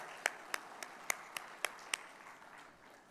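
Scattered hand claps from a small audience at an IIMB alumni club inaugural gathering, seven crisp claps in a steady beat that trail off into quiet room tone, soft and somewhat distant.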